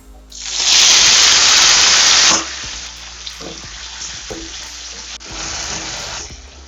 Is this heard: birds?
no